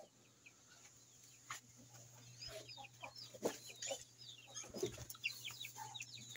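Laying hens in their area on a rural farm cluck in repeated short, moderately close calls over a steady low hum, with several louder clucks and squawks rising above soft background bird noise.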